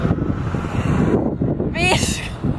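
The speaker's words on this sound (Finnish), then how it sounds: "On kova ääni, kun tuulee." While cycling, heavy wind buffets the microphone with a low, rumbling roar, and a voice speaks briefly partway through.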